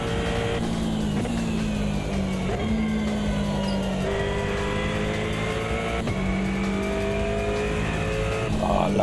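A race car in the Automobilista 2 sim racing game drives on in a loud, continuous engine drone that shifts pitch as it accelerates and changes gear, with sharp breaks where it shifts and no voices.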